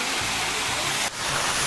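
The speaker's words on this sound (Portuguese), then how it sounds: "Estamos na cachoeira, ó. Olha que lindo." A waterfall in the Basalto park in Araraquara pours in a dense, even rush of white noise, close and constant, with a brief dip partway through.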